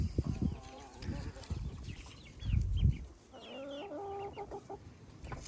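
Mature laying hens and small Delaware chicks clucking and cheeping in a chicken run, a mix of low throaty clucks and higher chirps close by, with occasional scuffling, no talk.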